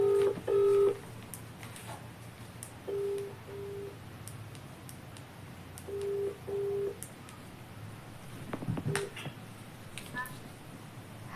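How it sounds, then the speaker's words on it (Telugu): Ringback tone on an outgoing mobile call to a mother, heard as a few short, steady beeping bursts spaced several seconds apart, with faint room noise and brief rustling between them. "రింగ్ అవుతుంది."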